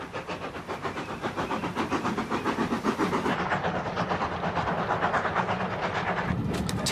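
Steady rumble and rhythmic clatter inside a moving intercity train speeding through countryside, a continuous loud drone with regular wheel beats and hiss throughout, no voices.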